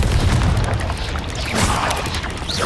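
Confringo spell explosion in the video game Hogwarts Legacy, a loud booming blast with crackling debris and a dense rumbling wash that fills the moment, with no talking over it.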